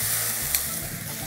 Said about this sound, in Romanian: După ce cotelete au făcut ușoară crusta, o să flambăm.